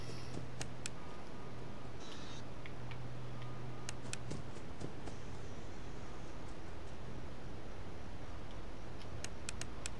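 A clock ticks in a quiet room in the horror game Five Nights at Freddy's 4, sharp regular ticks in short bursts over a steady hiss of background noise, with no voices.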